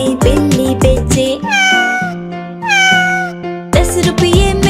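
A cat meows repeatedly within a Hindi children's toy-seller rhyme, several drawn-out cries alternating with loud musical accompaniment, prominent and close.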